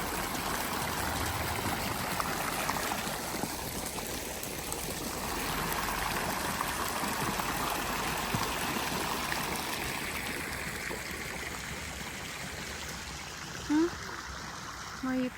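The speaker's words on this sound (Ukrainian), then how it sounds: "Як це дзюрчання заспокоює." Spring water babbles and trickles steadily throughout at a spa colonnade in Poděbrady, Czech Republic, a continuous gentle flow with a few brief knocks near the end.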